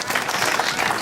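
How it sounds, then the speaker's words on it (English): Audience applause at an outdoor rally for a nature center, a dense, steady wash of many hands clapping with a faint crowd murmur mixed in. "So I want to give you a round of applause."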